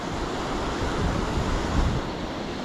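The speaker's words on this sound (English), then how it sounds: "you're right next to the water and you see all kinds of white water rapids coming down" White water rapids at Hareshaw Linn waterfall, a loud, dense, continuous rush of churning water heard close by, steady with slight surges, with no voices.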